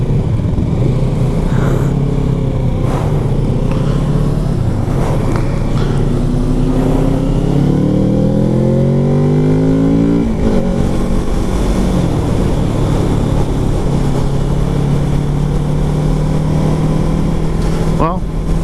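A Kawasaki Z650 motorcycle engine hums steadily, with rising pitch sweeps as it accelerates through gears, under continuous wind noise and a rider's talk.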